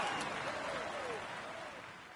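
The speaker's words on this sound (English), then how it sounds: "We applaud him loudly." Applause for a Tour de France overall winner, with crowd clapping held steady under a voice speaking throughout, the mixed noise gradually easing slightly in level.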